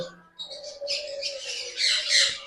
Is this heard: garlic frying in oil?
no